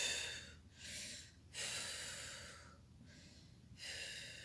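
Slow, deep breaths during a yoga stretch, with audible inhales and exhales in an unhurried rhythm, close and fairly soft with brief pauses between them.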